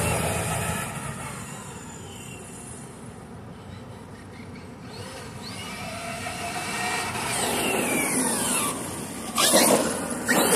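Traxxas Stampede 4x4 VXL RC truck running outdoors at dusk, its electric motor giving a steady whine that rises and falls with speed and surges loud near the end as it accelerates hard.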